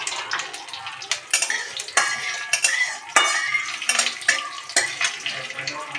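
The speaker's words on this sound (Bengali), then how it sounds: "এবার আমি এতে ফোড়ন দেবো সর্ষে, একটু কস্তুরি মেথি, কাঁচা লঙ্কা" Mustard seeds, kasuri methi and green chilli sizzle in hot oil as a tempering for bottle gourd curry, a steady crackling hiss broken by sharp clinks of a utensil against the pan.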